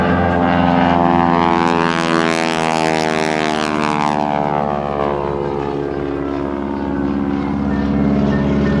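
An aerobatic propeller airplane performs at a Naval Air Station Oceana airshow, its loud engine droning continuously with a rising and falling pitch as it passes close overhead, with no voices.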